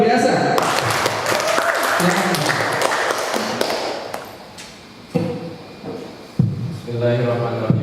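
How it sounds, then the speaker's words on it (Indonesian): Audience applause at an Indonesian Islamic education lecture rings out loud and dense for several seconds, then fades and gives way to someone speaking. "terima kasih kepada Pak Syafi'i pemateri kita sambut dengan aplaus yang luar biasa"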